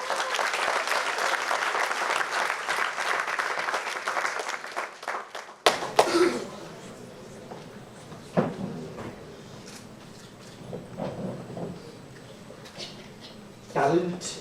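Dense, sustained applause fills the first six seconds, then cuts to a quieter room with scattered knocks, shuffles and faint voices.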